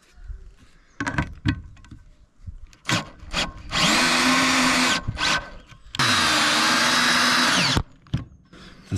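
Power drill driving self-tapping thread-forming screws into trapezoidal sheet metal on a garage roof while mounting solar panel rails: two long, loud whirring drive bursts with shorter taps and clunks between them.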